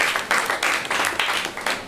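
An audience in a Nollywood comedy classroom scene breaks into loud clapping that comes in uneven bursts and surges for two seconds, close and full.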